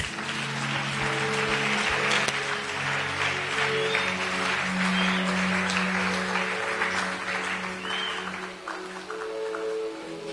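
A church congregation claps together in sustained applause, dense and continuous with voices and tones mixed in around it, no clear speech.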